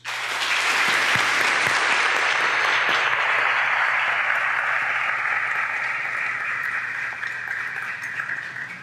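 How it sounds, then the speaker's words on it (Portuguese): A church congregation breaks into loud, full applause that begins abruptly and holds steady for several seconds before slowly thinning out. "Eu quero pedir a você que aplauda mais uma vez."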